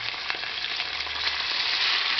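Three slices of pork neck fry in hot oil in a pan, giving a steady, close sizzle that stays dense and even throughout, with no voices over it.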